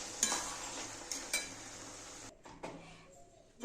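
Bottle gourd and prawn curry is stirred in a pan with a soft sizzle and a few spoon clinks against the metal. The frying fades near the end, and no one speaks.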